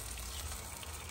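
Spatchcocked chickens sizzle on a Big Green Egg grill, giving a steady, quiet hiss and crackle of frying fat with low rumble underneath, continuous and fairly faint throughout.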